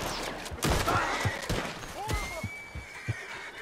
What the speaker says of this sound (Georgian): არა არა არა ცხენი ცხენი ნუ ნერვიულო გარი